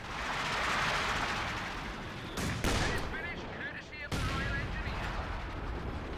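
Artillery and gunfire from Company of Heroes 2 in a 2v2 match: continuous rumbling battle noise with sharp bursts around the middle, heard under a low voice talking.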